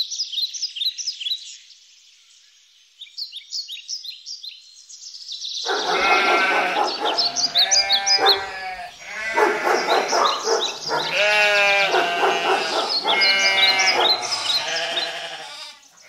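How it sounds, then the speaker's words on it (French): Sheep bleat loudly in a farmyard, a few short bleats at first and then a dense, overlapping chorus of repeated cries from the flock. "Bé, bé, font les brebis."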